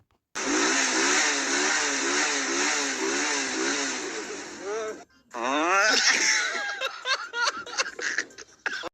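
A motorbike engine revs in repeated rising and falling pulses, then after a brief pause bursts into choppier revving mixed with voices.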